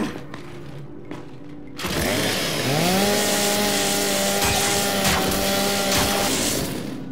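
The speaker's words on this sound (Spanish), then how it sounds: "La motosierra." A chainsaw weapon in the shooter Gears 5 revs up after quiet game sounds, then roars loud and close with a sustained, steady whine that rises in pitch and holds.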